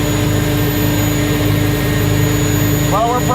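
The jet turbine engine of a 1959 GM Firebird III car runs at around 17,000 to 18,000 RPM, a loud, steady, close roar with a high whine, and a voice briefly speaks over it at the end.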